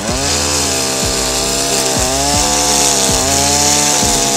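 A brush cutter fitted with a 7mm Tecniblade cuts grass at moderate engine speed, a loud, steady motor drone with rhythmic swishes from the blade as it sweeps through the grass.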